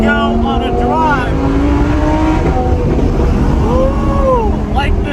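A Lamborghini and a Ferrari, one wrecked and one flood-damaged, pulling away with loud engine drone and rising revs under heavy wind buffeting. A voice calls out briefly over the noise.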